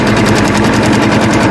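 A sewing machine with a 1/4 inch foot stitches folded 2 1/4 inch binding strips, a loud, steady, fast mechanical whir with an even rhythmic pulse and no pauses.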